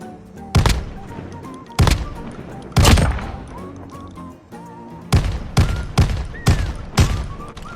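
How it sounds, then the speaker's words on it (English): The Eyehorn revolving shotgun in Call of Duty Mobile fires repeatedly, with sharp, loud booming reports. A few shots come spaced out, then a quicker volley of five near the end, over faint game background sounds. "At Tier 21, you unlock the Eyehorn Revolving Shotgun, the worst shotgun I have ever used in any game."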